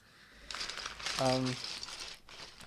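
A tight plastic bag of keyboard keycaps is pulled open with crinkling and tearing rustle that swells in the middle, close up, along with a brief voiced sound.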